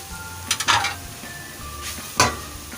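Chicken and finely chopped onions are stirred in a pan, with a sizzle underneath and a few sharp scrapes and clinks of the spoon against the metal.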